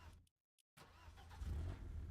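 A car engine in the video game Fortnite starts up after a brief silence and settles into a steady low rumble that grows slightly louder, heard alone with no talk.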